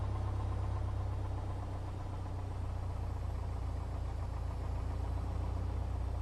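Piper PA-28 Cherokee engine in a flight simulator idles steadily after leaning the mixture, a constant low drone with even vibration and no change in pitch, heard alone.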